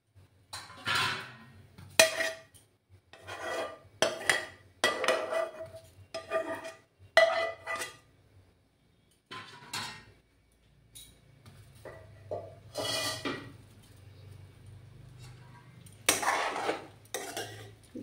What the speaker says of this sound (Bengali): কড়ার মধ্যে এগুলো আমি ঢেলে দিচ্ছি।